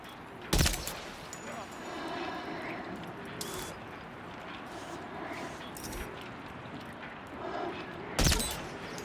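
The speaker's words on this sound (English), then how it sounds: "I'm going for more like shots to their legs." Sharp gunshots aimed at enemies' legs in the video game Death Stranding 2 ring out as a few isolated loud cracks, spaced seconds apart over a steady background rumble and faint talk.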